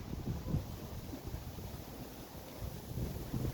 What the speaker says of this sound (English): The wind is blowing, an amazing wind is blowing